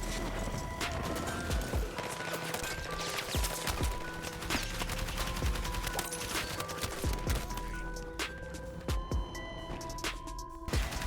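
Burst fire from an L85A3 rifle in Battlefield 6, with rapid repeated sharp reports in close succession over a continuous busy mix of game effects and background music.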